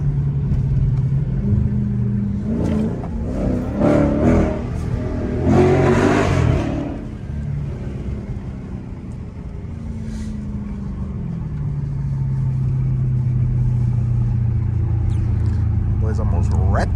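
Mopar cars with loud exhausts revving at night, engines roaring up and down in bursts and then settling into a deep, steady drone, heard from close by.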